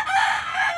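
Rooster crowing once at close range, a brief loud strained call with a rising then held tone, heard alone without talk.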